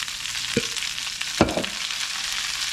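Washed, tightly packed spinach hitting a hot pan sizzles with a constant close frying hiss, broken by two brief thuds and a burst of crackle as the leaves drop in.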